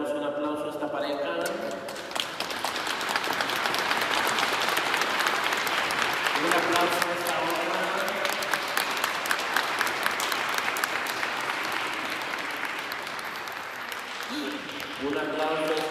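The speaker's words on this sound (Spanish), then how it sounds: "Le damos un aplauso a esta pareja." A congregation at a wedding mass applauds the couple, sustained clapping from a crowd filling the church, with brief talk and harmonic voices near the start, middle and end.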